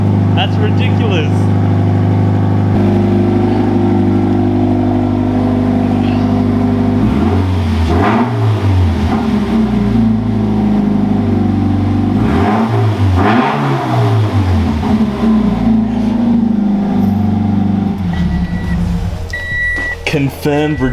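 A Toyota 86 GTS with an X-Force catback exhaust idles with a loud, deep exhaust drone, then revs up sharply several times and falls back, with voices nearby.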